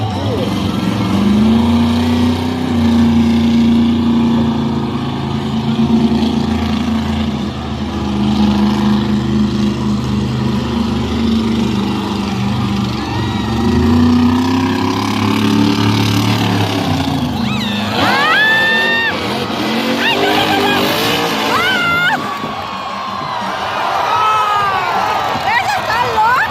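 A monster truck driven by Zach Gardner roars at a Monster Jam show in Salinas, California, its engine droning loud and sustained with revving swells over a cheering crowd, then shifting into higher whining bursts near the end.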